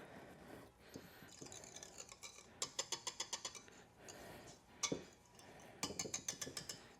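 A whisk beats ingredients in a bowl in quick rhythmic bursts of rapid clinking strokes, with pauses between bursts, quiet and close.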